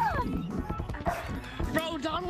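A person's voice imitates a small dog, producing a quick run of yipping barks and whiny whimpers close to the mic, mixed with speech-like vocal sounds over an online game's voice chat.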